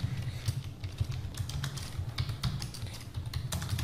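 Someone types on a computer keyboard while filling in an online police constable application form, producing rapid, close, steady key clicks with small pauses between bursts.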